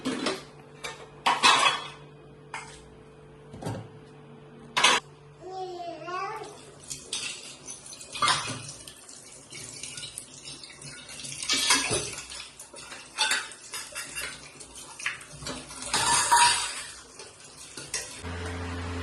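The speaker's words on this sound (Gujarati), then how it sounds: "હાલો, આપણે વાસણ ઉટકવા ને" Dishes and utensils being scrubbed and washed, with intermittent clinks and clatters of metal pots against each other, water splashing, and short scraping bursts spread irregularly, close by.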